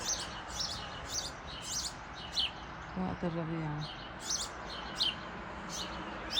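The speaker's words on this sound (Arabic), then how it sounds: "بس صوت العصافير هو اللي سمعاه" Small birds chirp and tweet repeatedly in quick bursts outside a window by a tree, moderately close, while someone speaks briefly in the middle.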